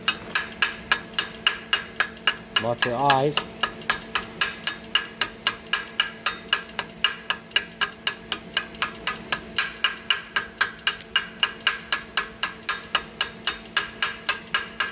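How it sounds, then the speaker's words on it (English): Rapid, evenly spaced metallic taps of a chipping hammer striking weld slag continue throughout, with a brief spoken remark early on. "Chipping hammer."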